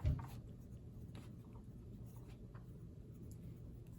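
A pen scratches steadily across paper during a mineral identification lab, a continuous close, soft scraping with a brief louder knock at the start.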